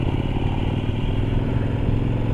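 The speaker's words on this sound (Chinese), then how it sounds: "就是发动机确实不太好听" A 2024 KOVE 800X adventure motorcycle engine drones steadily and close while riding, a low rumbling hum with wind noise throughout, no talking.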